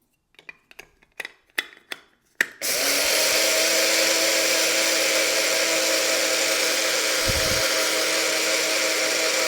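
After a few sharp taps and clicks, an electric grinder starts up and whirs loudly and steadily as it grinds dry quinoa into powder. It is close and runs without pause, with one brief low thump near the end.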